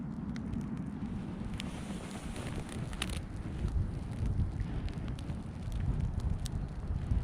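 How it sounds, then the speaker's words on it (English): A wood fire roars with a low rumble, scattered sharp crackles and pops breaking through, faint and close. "and you hear that crackling and sizzling."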